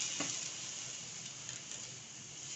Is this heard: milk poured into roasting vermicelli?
yes